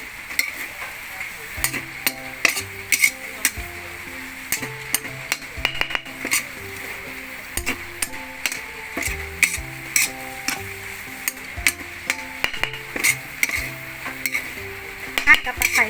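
Red chillies and lemongrass stir-fried together in a hot pan for a Thai khua kling dish, with steady sizzling and repeated scraping and clanking of a spatula stirring the ingredients, no talking.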